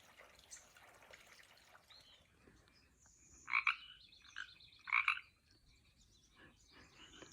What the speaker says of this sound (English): if you listen carefully, you'll even hear several different species of frogs.